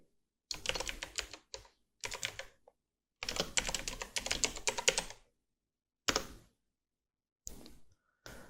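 Fingers type on a keyboard in short quick bursts of clicking keystrokes separated by silent pauses, close and crisp, with no talk.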